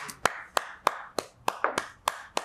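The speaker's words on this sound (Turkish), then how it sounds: "Hadi bakalım kocaman bir alkış" Slow, evenly spaced hand claps at a Turkish rap show, about eight sharp strikes in a steady rhythm, fairly close and clear, with no talking over them.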